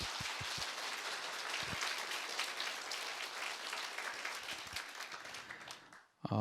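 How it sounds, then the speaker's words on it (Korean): Congregation at a church service claps loudly to give glory to God, a sustained wash of quiet applause that fades out near the end. "우리 큰 박수로 한번 영광 돌리겠습니다"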